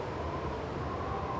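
Wind howls outside in The Long Dark survival game, a steady broadband rush with a low rumble, continuous and moderately loud, with no talking.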